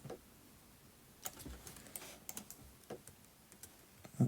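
Fingers tap on a laptop keyboard in a quiet room, with irregular soft clicks and a few sharper keystrokes spread across a steady background hiss, no voices.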